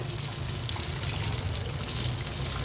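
Crispy jackfruit pakodas deep-frying in hot oil over a medium flame, a steady close bubbling sizzle that runs without a break and with no talking.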